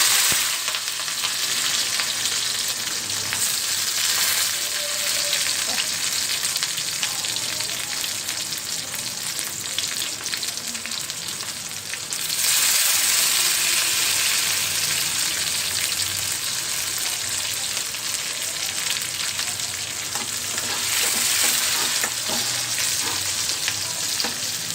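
Onions and green chilies frying in oil with tempering seeds for dry chana masala, a loud, steady close sizzle that runs unbroken and swells slightly partway through, with no talking.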